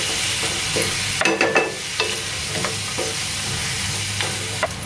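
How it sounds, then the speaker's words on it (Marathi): Ridge gourd is sautéed and stirred in a pan, a steady close sizzle with a few scraping stirs and clinks of the spoon, with no voices. "इथे थोडा 2 मिनटं मी इथे परतून देणार आहे, वाफवून देणार आहे इथे 2 मिनटं"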